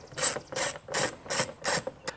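A ratchet loosens a T30 screw behind the door handle of a Porsche Cayenne 958, five loud, close bursts of rapid clicking in an even back-and-forth rhythm, with no talk.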